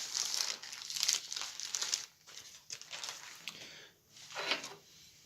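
Baking paper is peeled and crumpled away from rolled dough for a ham roulade, giving close, repeated crinkling bursts with short pauses between handfuls.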